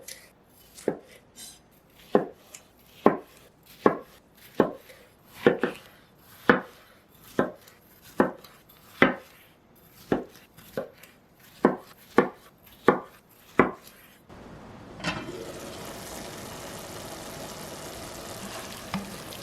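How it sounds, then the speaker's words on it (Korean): A knife roughly chops tomatoes on a cutting board in a steady series of about fifteen crisp, evenly spaced cuts, then gives way to a sizzling hiss of cooking. "토마토는 적당한 크기로 대강 썰어 줄게요"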